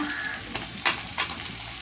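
Long-sliced onions drop into hot oil for a fenugreek curry and fry with a continuous close sizzle. A few short scraping stirs cut through it.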